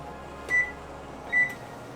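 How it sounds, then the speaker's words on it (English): An oven's control panel gives two short electronic beeps about a second apart while being set to preheat at 350, over a low room hum. "I guess I should be preheating the oven here."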